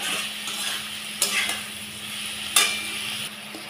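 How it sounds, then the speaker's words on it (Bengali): Ridge gourd, potato and poppy seed paste are stir-fried in a pan, with a soft constant sizzle broken by a few sharp spatula scrapes against the metal. "দাঁড়িয়ে থেকে ভালো করে কিন্তু কষাতে হবে পোস্ত, আলু আর ঝিঙেটা দিয়ে"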